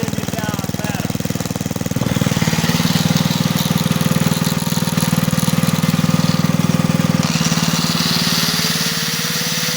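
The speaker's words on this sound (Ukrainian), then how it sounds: "двигун працює" Kirsch petrol generator engine running steadily nearby, a loud continuous low rumble with rapid mechanical clatter that shifts slightly in pitch partway through.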